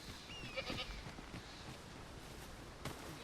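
A few short goat bleats in the video game Dragon's Dogma II ring out against a faint background hum, one early and another near the end.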